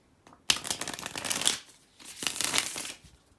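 Tarot cards shuffled by hand in two quick close riffling bursts, each about a second long, with no talking.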